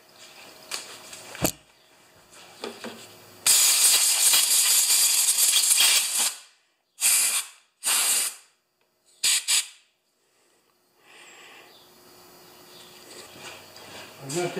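An aerosol can of carburetor cleaner sprays with a long loud hiss, then several short bursts, alongside some rattling handling noise.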